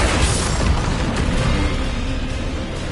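A Bombarda spell detonates in Hogwarts Legacy on PS5, a loud, dense blast that stays as a roaring rumble for a few seconds with no voices over it.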